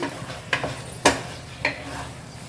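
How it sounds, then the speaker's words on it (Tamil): Chicken is stirred into a masala in a pan for a roasted-spice chicken curry, three or four distinct scraping clinks of a spoon against the pan over a low background sizzle. "இப்போ இந்த மசாலாவில் நல்லா வந்து கிளறி விட்டுடலாம்"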